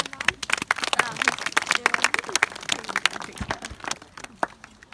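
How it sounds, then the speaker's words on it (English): Audience clapping at an Anglo-Saxon roleplay demonstration, a steady crackle of many hands lasting throughout, fairly close and unbroken. "Let's give him a round of applause."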